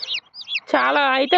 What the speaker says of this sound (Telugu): ఈ కోడి పిల్లల శబ్దం అయితే వినపడింది.